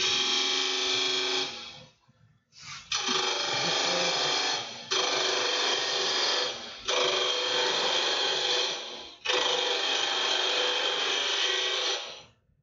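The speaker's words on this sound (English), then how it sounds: "So right now I'll create the tenon." Wood lathe cutting a tenon on a bowl blank: a steady, loud, broadband whirring hiss in four long passes with short gaps between cuts, close up and with no talk.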